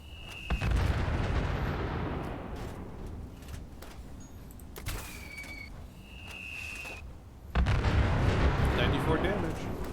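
Video game explosions, likely from a thrown grenade, as a deep booming blast rumbles and decays, followed later by a second heavy burst, mixed with whistling tones and loud game noise.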